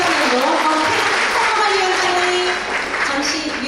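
Parents at a school assembly in Hanoi applaud with steady, continuous clapping from a large indoor crowd, with some faint voices underneath.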